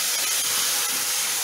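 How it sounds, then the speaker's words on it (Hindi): Milk trickling into a pan of cooking moong dal and sugar for barfi, a steady soft hiss and gentle liquid wash running evenly throughout at close range, with no talking. "तो अब हम इसमें थोड़ा थोड़ा दूध डालेंगे"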